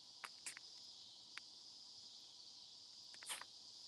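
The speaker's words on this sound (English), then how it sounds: "Yeah, they're cicadas, or some people call them cicadias." Cicadas or similar insects keep up a steady, high, shrill buzz in the background, joined by a few brief clicks and taps.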